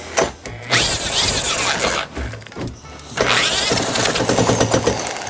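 A 1954 Elgin outboard motor cranks and catches, giving two loud bursts of mechanical whirring and sputtering with a brief pause between them, close by and with no talk.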